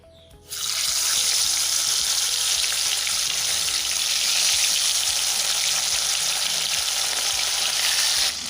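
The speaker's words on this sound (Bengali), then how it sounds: "তো তেল আমার গরম হয়ে গিয়েছে, এখন আমি মাছগুলো ভেজে নেব।" Fish frying in hot oil in a karai, a loud, steady hiss and crackle that bursts in suddenly and holds unbroken up close.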